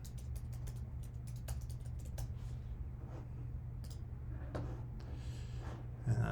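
Fingers type on a computer keyboard in quiet, irregular bursts of light clicks over a low steady hum, with no one speaking.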